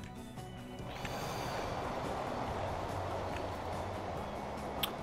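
A train pulls into a station in the Transport Fever video game, its steady rumbling rolling noise holding loud and continuous with faint squeals and clicks on top.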